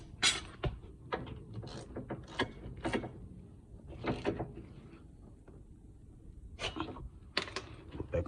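Bolts on a 2011 Hyundai Santa Fe brake are tightened with a ratchet during a brake pad job, giving quiet, irregular metallic clicks and clatter spread through the clip.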